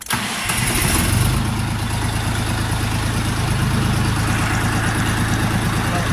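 A Dongfeng DF 244 G2 mini tractor engine cranks and starts, then settles into a steady, even diesel idle that runs close and continuously to the end.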